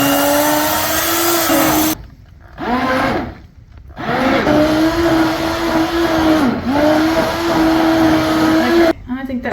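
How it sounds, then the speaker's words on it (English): An immersion blender purées hot soup with a loud, close motor whine that runs in sustained bursts, briefly stopping twice near the start before running steadily again. "If you don't have an immersion blender, you could just put it in a traditional blender."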